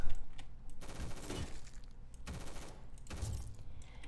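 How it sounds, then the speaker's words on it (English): Full-auto gunfire from a gun in the Roblox game Rolling Thunder, heard as three dense bursts of rapid shots spaced about a second apart, loud and close, with no talk. "I like the gun, even though it's full auto."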